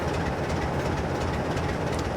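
Class 47 diesel locomotive hauling a Royal Mail train in Train Simulator 2015, a steady rolling rumble of wheels and engine with faint rhythmic clatter, continuous and fairly close throughout.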